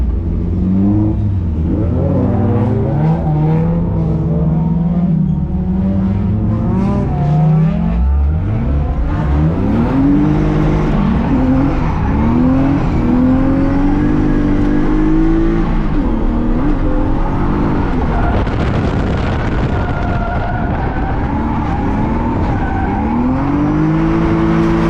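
Pro and pro-am class winning BMW E36 drift car with a straight-cut gear dog box, heard from inside on a ride along: loud engine revving up and down through gear changes, with tire squeal and skidding, and no talk.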